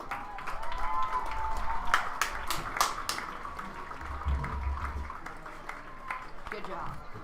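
A crowd at a high school homecoming football game applauds the homecoming court candidates, steady clapping and a few whoops under someone talking over a loudspeaker.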